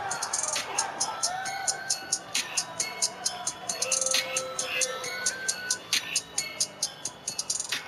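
A crowd at a wrestling event cheers and shouts in a steady roar of voices, broken by bursts of rhythmic clapping or stomping that rise above the din.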